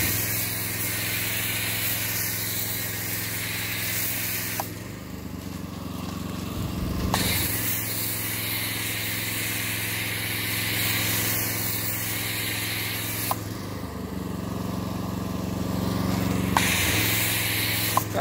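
Truck and trailer wash foam sprayed onto a dirty zero-turn mower, a steady loud hissing spray that cuts off briefly twice and resumes, with a low machine hum underneath.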